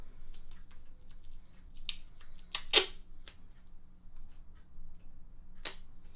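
Strips of tape torn off and pressed onto a homemade rainstick tube: a few sharp, crackly ripping bursts close by, spaced irregularly over low room hum, with no talking.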